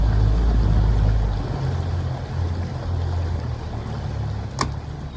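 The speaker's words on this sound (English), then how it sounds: "Let me just turn this boat round." A motorboat engine drones steadily with heavy low rumble, easing off slightly after a moment, with a brief splash or knock near the end.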